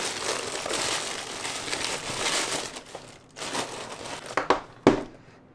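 A mail package being opened, with soft crinkling and crumpling of paper or plastic packaging, close and quiet, ending in a few sharper crisp rustles and tears.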